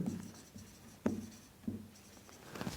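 Chalk or a marker writes on a board during a classroom lesson, producing a few short scratchy taps and strokes at irregular intervals, close and fairly quiet.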